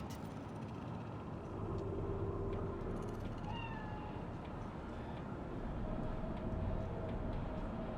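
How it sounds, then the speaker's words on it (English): Cat meowing in Cyberpunk 2077, a few short rising meows heard faintly over a steady city rumble with passing train and traffic noise. "Do you see it? The cat?"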